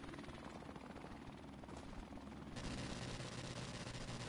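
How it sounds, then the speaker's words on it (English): Helicopter in the game Call of Duty: Modern Warfare Remastered, a steady rotor drone mixed with game noise and possible gunfire, louder and denser in the second half, with no talk. "My helicopter is flown by Helen Keller right now"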